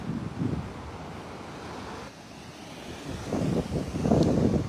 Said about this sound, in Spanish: en verdad las olas están, tú sabes, están chéveres